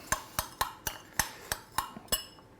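Chopped thyme and fresh rosemary stirred in a bowl with a utensil, giving about nine sharp rhythmic clinks of metal against the dish, close and fairly quiet, with no talking.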